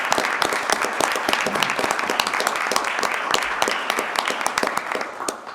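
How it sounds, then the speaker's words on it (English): An audience at a county commissioners' meeting applauds a proclamation with steady, dense clapping that fills the room and holds throughout, tapering slightly near the end with no talk over it. "So let's give her another round of applause."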